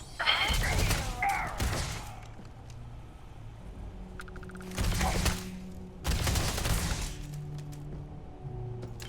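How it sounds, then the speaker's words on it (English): Rifle fire in a video game comes in a few loud, separate bursts, each a sharp crack with a short tail, spread across the clip over a low background hum. "this rifle seems to hit quite hard as well"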